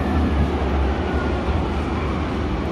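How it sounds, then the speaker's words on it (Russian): A Berlin subway train rumbles steadily and loudly at close range, its low, continuous roar and rail noise filling the scene with no talking. "Вот такой у нас метро."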